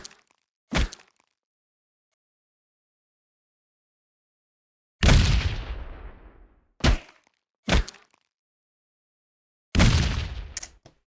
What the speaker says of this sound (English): If I scroll down out of weapon fire into weapon hit, let's solo the shotguns here.